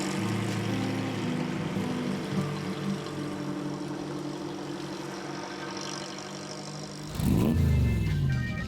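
Classic MG Midget sports car engine idling steadily with a low, even drone, then revving up sharply near the end as the engine note rises and swells louder.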